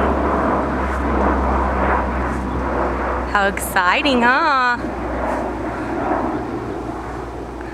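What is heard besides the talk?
airplane flying overhead near an airport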